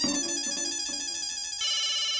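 An electronic phone ringtone plays a repeating melodic chime, loud and close, with no voices.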